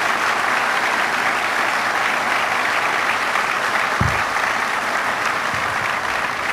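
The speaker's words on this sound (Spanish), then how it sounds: "Y un gran aplauso aquí, por favor" Dense, sustained applause from a large audience fills the hall at the inauguration of Pemex's Poza Rica cryogenic plant, loud and even throughout with one brief thump partway.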